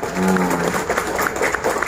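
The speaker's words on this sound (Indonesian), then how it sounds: "Coba tepuk tangan buat kita semua dulu dong." Audience clapping after a call for applause at the official reopening of the Mak Itam tourist train in Sawahlunto, a brief burst of many hands under a voice at the start, steady and fairly close.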